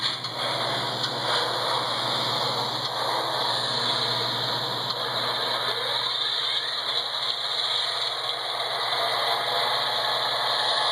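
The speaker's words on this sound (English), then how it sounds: "I'm going to go through the motions of trying to start this big V14 diesel engine." A model train's V14 diesel engine sound, an American Flyer Alco converted to MTH PS2, whirs and rumbles steadily through a start-up sequence, a continuous mechanical drone with faint rubbing and ratcheting detail and no voices.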